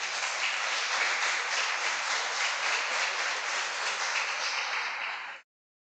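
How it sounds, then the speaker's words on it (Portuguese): Church congregation at a Sunday service applauding in an even, continuous patter of many hands, fairly faint and distant, ending abruptly. "vamos aplaudir."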